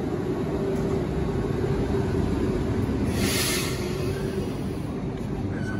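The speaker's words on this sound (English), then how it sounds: "And here's the train." A double-decker RER C suburban train pulls into a station in Paris with a steady, loud rumble of wheels and a constant high whine, no voices over it.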